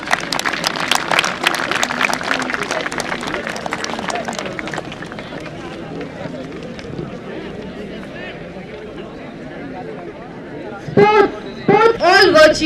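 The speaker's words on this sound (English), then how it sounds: "A huge round of applause." Audience applause at a school event, a broad steady patter of many hands clapping for several seconds before fading into quieter murmuring and a voice.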